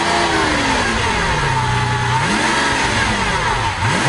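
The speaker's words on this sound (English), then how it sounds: "Bury the throttle, and this 48-valve brute will leave you grinning all the way to central booking." A 2013 Lamborghini Aventador's mid-mounted 48-valve V12 revs loudly and close up, pitch rising and falling in repeated throttle blips over a steady engine roar.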